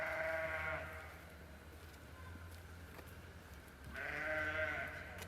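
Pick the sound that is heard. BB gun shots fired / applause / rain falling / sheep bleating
sheep bleating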